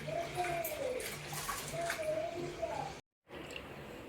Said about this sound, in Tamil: நல்லா 2 கையை விட்டு இதில் பிசைஞ்சு நல்லா க்ளீனாக வாஷ் பண்ணி எடுத்துக்குங்க.